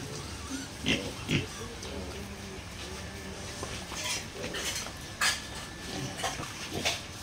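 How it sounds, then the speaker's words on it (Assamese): Young Duroc piglets grunt and snuffle at close range in a pen, with several short bursts of grunting scattered over a low background of rustling, clinking and a voice talking. "আৰু এইখিনি মোৰ ডিউৰক পোৱালি"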